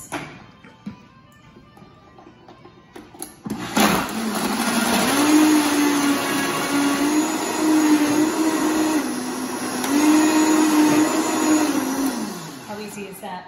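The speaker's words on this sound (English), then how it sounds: "let's go ahead and run our Vitamix" A Vitamix blender whirs a mango smoothie with cardamom in one loud, continuous run of about ten seconds, its motor pitch wavering slightly as the mix churns, after a quiet stretch with a few faint knocks.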